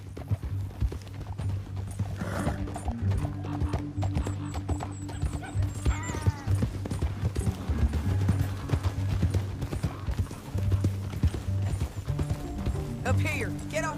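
Rhythmic clip-clop of horse hooves in Red Dead Redemption 2 over a busy game soundtrack with music and effects, a horse whinnying once, and voices talking now and then.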